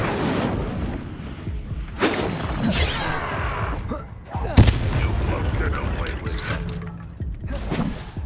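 In the Hogwarts Legacy video game, the Incendio fire spell is cast with a sharp burst and crackling whoosh. It sits amid a busy mix of game effects and brief impacts, and a voice is heard.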